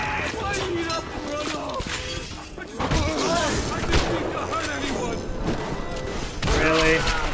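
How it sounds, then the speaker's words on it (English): Repeated blasts and gunfire from a Bioshock firefight crack and thump over a steady din, loud and close, while a player talks throughout. "there's a lot of explosions going on"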